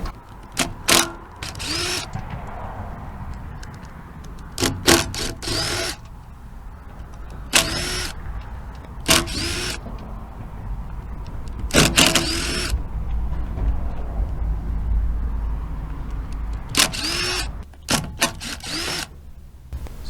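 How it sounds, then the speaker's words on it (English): A power tool unscrews side cover bolts from a Honda GX240 engine in repeated loud short bursts separated by quieter pauses and clinks. "Let's get these side cover bolts out."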